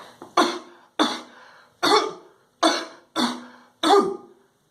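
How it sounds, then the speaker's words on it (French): A person coughs into the elbow six times in a row, sharp, close, evenly spaced coughs with short breaths between them. "Tu prends ton coude et il faut tousser dedans"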